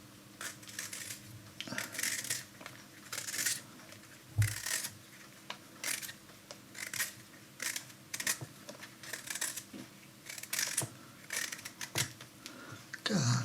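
Vegetables peeled by hand for a pork stew, their tops and tails already trimmed: close, irregular scraping strokes and small clicks in quick bursts, with no talking.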